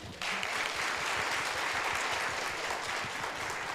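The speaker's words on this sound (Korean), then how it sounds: "우리 전유다 학생에게 다시 한번 큰 박수 보내주실까요?" Audience applause fills a Kyungpook National University hall during a youth talk concert on the era of local autonomy, a dense, steady clapping that begins abruptly and holds at full strength before easing slightly at the end.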